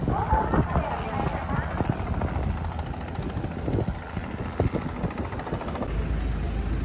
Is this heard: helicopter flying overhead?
yes